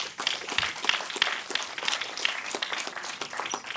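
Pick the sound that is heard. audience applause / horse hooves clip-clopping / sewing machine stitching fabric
audience applause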